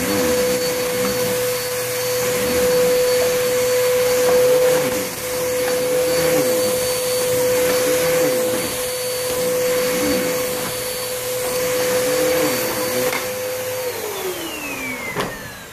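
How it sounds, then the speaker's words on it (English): An old, worn-out vacuum cleaner runs continuously over carpet, its steady motor drone carrying a strong whine that shifts pitch slightly as the head is pushed back and forth, loud and close with no talking. "So we're gonna try to vacuum."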